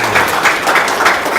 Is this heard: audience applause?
yes